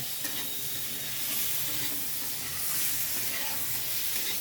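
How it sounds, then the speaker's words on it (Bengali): Vegetarian food cooking on a clay stove on a rooftop, with a steady close sizzle and hiss and soft stirring scrapes throughout. "এই যে রান্না হচ্ছে, রান্না বান্না উনুনে"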